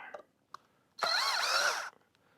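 A cordless drill backs out worn screws from lumber, a single sharp whirring burst of about a second with a pitch that dips and climbs, preceded by a few faint knocks.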